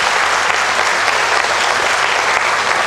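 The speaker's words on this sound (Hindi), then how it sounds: "इनके लिए एक बार जोर दिया तालियां हो जाए" Loud, dense audience applause at a student seminar, a close, continuous burst of many hands clapping from start to finish.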